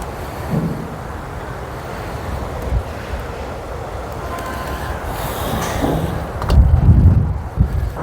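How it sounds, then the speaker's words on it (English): Wind swirls and buffets hard against the microphone outdoors at a golf launch area, a continuous rushing roar with gusts that swell louder toward the end. "I don't know if you can hear the wind swirling"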